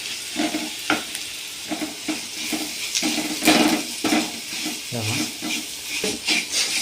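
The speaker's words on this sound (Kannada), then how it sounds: "ಇದಕ್ಕೆ ಒಂದು ಅರ್ಧ ಚಮಚಷ್ಟು ಅರಿಸಿನ ನೋಡಿ ಹಾಕ್ಕೊಳ್ಳಿ ಹಾಗೆ ಸ್ವಲ್ಪ ಫ್ರೈ ಮಾಡಬೇಕು" Spices with turmeric stir-fried in a pan on low flame for paneer pepper fry: irregular scraping and stirring strokes over a soft sizzle, with brief clatters and a short watery splash midway.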